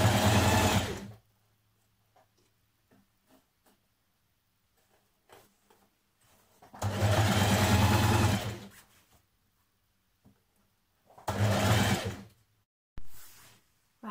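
A sewing machine top stitches a shirt front band in three loud, steady whirring runs of a second or two each, separated by quiet pauses with soft clicks and handling noises.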